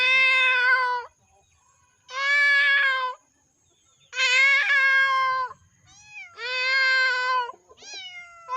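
A human voice mimics a cat, producing five loud, close meows: long nasal cries with rising and falling pitch, separated by brief silences.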